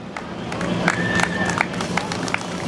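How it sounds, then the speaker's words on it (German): At a Monday street demonstration in Wittenberge, a small outdoor crowd applauds with scattered, moderately loud claps and murmuring voices, a brief tone sounding faintly in the background. "Applaus nochmal für den Redebeitrag."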